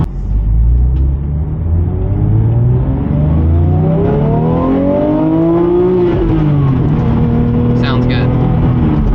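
A Porsche 911 Speedster's engine revs up in a smooth rising sweep, peaks, then falls back and settles into a steady hum. It is loud and close, with a brief higher sound near the end.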